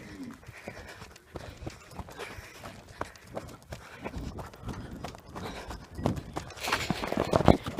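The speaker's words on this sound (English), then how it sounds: "Running through Maasai land." A person runs across open Maasai land in Kenya, footfalls landing in a quick, steady rhythm of soft thuds that grow louder and rougher toward the end.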